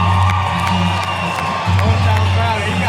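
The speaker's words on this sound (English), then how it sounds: "Hometown crowd. He's got everyone behind him." A hometown crowd at a Legends Rise MMA event roars and cheers for the local fighter, with a dense, steady wall of voices, whoops and shouts that stays loud throughout.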